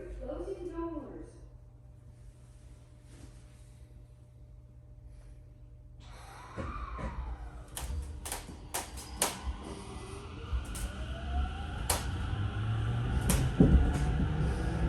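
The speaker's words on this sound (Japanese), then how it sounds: "ドアが閉まります。" Doors close on a Tokyo Metro Tozai Line 05 series train (Mitsubishi IGBT-VVVF) in heavy snow near Urayasu: a thud and rattling knocks, then rising motor whine and rumbling train noise, with a voice heard early on.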